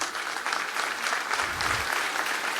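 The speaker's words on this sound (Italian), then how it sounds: "Intanto vorrei un bel applauso per Ivano Argiolas" An audience applauds for Ivano Argiolas at a solidarity event in Tonara, Sardinia, with dense, steady clapping throughout the short burst.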